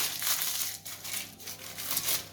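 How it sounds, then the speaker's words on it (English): A sheet of parchment paper being screwed up by hand while lining a pastry case for an orange and dark chocolate tart, giving close, continuous crackly crinkling in uneven bursts with no talk. "Take a piece of parchment paper,"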